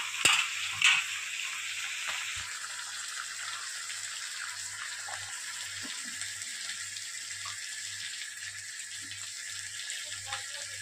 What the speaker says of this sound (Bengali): এবার মাছগুলো আমি একে একে ছেড়ে দেবো।